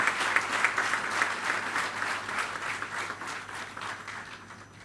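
An audience at a university address bursts into sustained, dense applause, many hands clapping together at moderate distance before it thins and fades out.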